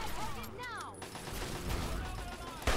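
Gunfire rattles through a Fallout 3 firefight in a quick, busy burst of shots, with voices talking over the shooting and a louder hit near the end.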